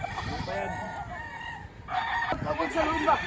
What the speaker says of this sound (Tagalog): Ito kulay white na manok, maganda.